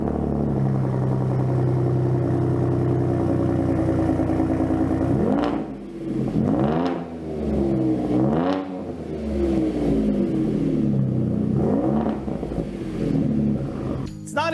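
A 2021 Ford F-150 with the 3.5-liter twin-turbo EcoBoost V6 and an AWE aftermarket exhaust idles with a steady deep drone, then is revved several times in quick, loud, swelling bursts that fall back toward idle.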